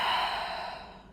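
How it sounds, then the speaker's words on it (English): A deep exhale during a beginner full-body sculpt workout, after a child's pose stretch: one long, breathy outbreath that starts strong and slowly fades over about a second, heard alone and close. "Deep breath out."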